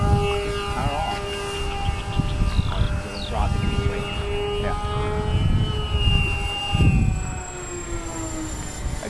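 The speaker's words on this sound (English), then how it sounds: "But there's still power, I still hear the engine." Engine of a Twinstar II RC model airplane in flight, a steady whining drone with a shifting pitch, heard from a distance outdoors with wind noise while people talk throughout.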